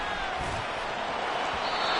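A football stadium crowd roars and applauds the defense after an incomplete third-down pass, a steady, loud wash of cheering that swells slightly toward the end.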